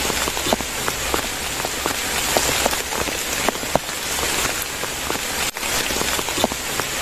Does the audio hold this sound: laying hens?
no